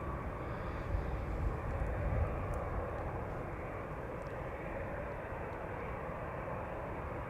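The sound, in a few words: EasyJet A319 aircraft taxiing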